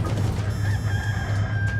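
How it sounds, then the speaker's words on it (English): A chicken in the video game D4: Dark Dreams Don't Die crows in drawn-out, loud tones over a steady low background hum, with no speech. "The chicken."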